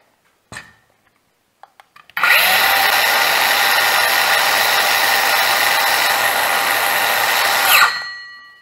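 After a few faint clicks, a brushless cordless circular saw spins up at speed and runs loud and steady with a high whining hum for about six seconds, then winds down.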